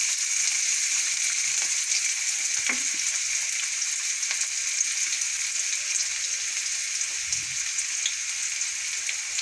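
A large onion fries in hot oil in a pan, a steady close crackling sizzle throughout with a few faint stirring knocks.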